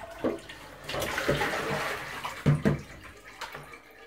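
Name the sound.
rinsing okazi leaves in water for ikok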